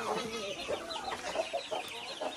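A rooster on a small farm plot gives a run of short clucks and throaty calls, moderately close and fairly soft, against a constant outdoor background.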